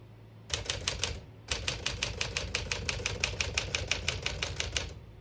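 A manual typewriter clacks in a quick, even run of keystrokes, close and crisp, with a brief pause before typing resumes.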